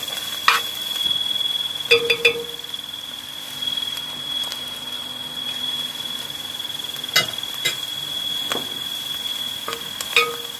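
Food sizzles steadily in a pot while being stirred for a Saudi chicken kabsa, with intermittent scraping and clinking of a utensil against the pot over the constant frying hiss, close by and without talk.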